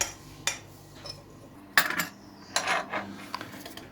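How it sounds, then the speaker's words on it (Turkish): Flour being stirred into wet cake batter in a bowl for a saucy brownie-style moist cake: a few sharp clinks and scrapes of a utensil against the bowl, spaced irregularly, close and fairly quiet, with no talking. "Şimdi unumuzun tamamını ekleyelim ve güzelce karıştıralım."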